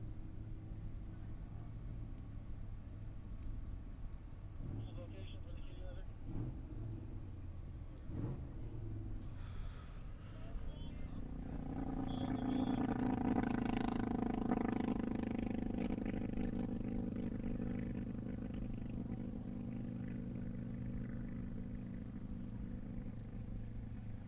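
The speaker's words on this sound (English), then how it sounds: "1970 vintage flathead motorcycle. Be kind of cool to hear that go by" A 1970 vintage flathead motorcycle racing past on the Bonneville salt flats, a distant engine drone swelling into a broad rumble midway and then fading, with a few clatters early on.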